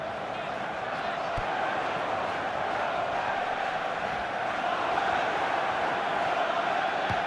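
Stadium crowd in a PES 2021 football match simulation of Arsenal versus Fulham roars in a steady dense wash for the whole stretch, loud and unbroken, with no clear voices on top.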